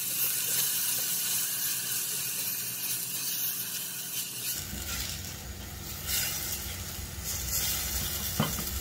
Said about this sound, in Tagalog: Igisang lahat ito, sama-sama na. Yung sibuyas, kamatis, at sili.